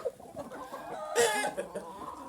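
A sick hen with diarrhea clucks repeatedly in short, nasal bursts, with a louder squawk partway through, other fowl sounds faintly around it.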